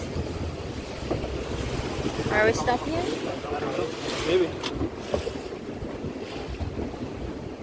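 Ocean waves crash against rocks along a Costa Rica coast, heard from a small fishing boat as a constant rushing wash of surf buried under heavy wind buffeting, while people talk briefly nearby.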